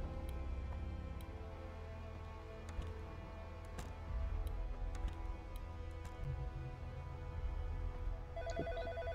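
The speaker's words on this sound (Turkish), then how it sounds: "Evet, telefon çalıyor." A telephone ringing inside the horror video game In Sound Mind, its bell tones repeating steadily over a low droning ambient background, moderately loud with faint ticking accents and no talking.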